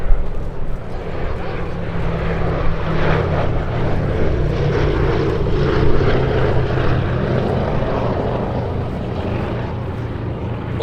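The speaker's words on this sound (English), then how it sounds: "The Bombay doors open on Sally B there, just as just giving us a belly side pass." The B-17G bomber Sally B flies a belly-side pass at an airshow with bomb bay doors open, its piston engines producing a loud, continuous droning roar throughout, with a commentator talking over it.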